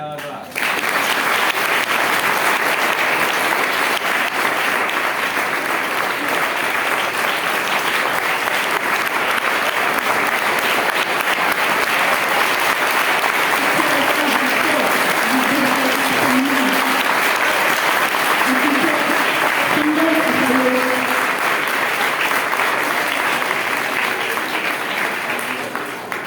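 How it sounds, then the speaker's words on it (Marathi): A Marathi women's forum anniversary ceremony audience applauds loudly and continuously for nearly the whole stretch, a dense steady wash of clapping with a faint voice barely showing beneath it. "एकदम जोरदार टाळ्या वाजवा"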